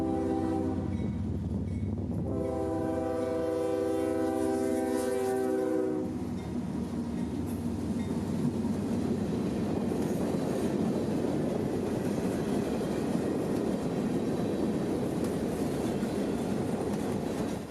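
A CSX local freight train passes, its horn sounding a sustained chord for several seconds before fading into a steady, loud rumble and rattle of rolling cars.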